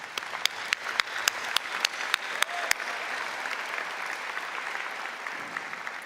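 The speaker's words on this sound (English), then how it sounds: "Can I have a round of applause for everyone who's here today?" Convocation audience applause in a large hall, a broad, continuous clapping crowd at moderate distance, with a few loud, sharp nearby claps standing out in a steady rhythm early on before the sound settles into an even roar.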